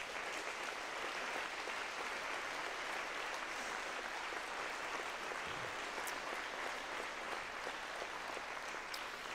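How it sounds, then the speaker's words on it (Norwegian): Steady applause from a large audience at the opening concert of a national folk and traditional music and dance festival, broad and sustained with no break, heard alone. "Det fortjener virkelig en stor applaus."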